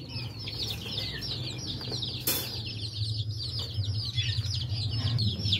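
Aseel chicks being moved into a cage give continuous high, overlapping cheeping close by. There is a brief rustle or thump partway through and a low background hum underneath.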